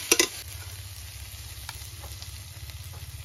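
Oily vegetables frying in a kadai hiss steadily while a spatula gives a couple of sharp clinks at the start and then light, occasional stirring scrapes, close and moderately quiet, no speech.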